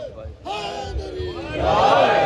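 A congregation at a Muharram majlis at an aza khana chants a slogan in unison, many voices swelling louder toward the end.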